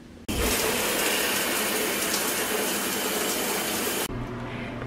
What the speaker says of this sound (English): So, shower time.